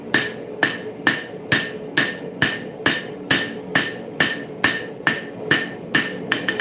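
A smith's hammer strikes a dagger blade, forging its bevels: sharp, ringing metal blows in a steady, evenly spaced rhythm, about two per second, close and loud with no voices.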